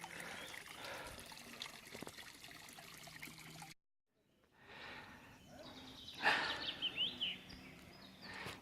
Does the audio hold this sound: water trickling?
yes